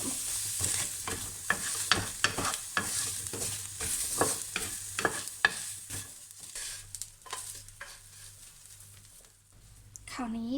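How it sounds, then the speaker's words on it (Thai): Rhythmic scraping of a spatula stirring shallots and garlic in a hot pan, with a steady sizzle underneath; the stirring slows and fades toward the end. "ไว้ทำน้ำพริกเผา ก็คั่วหอมกระเทียม"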